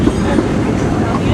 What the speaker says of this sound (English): We're currently truly steaming our way on to our next stop, which is Toontown Depot.